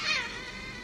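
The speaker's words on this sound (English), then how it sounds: "but look at how cute the cat is" A cute cat in the WWII history game Svoboda 1945: Liberation gives one short, bright meow that rises and then trails off, close and clear with nothing else over it.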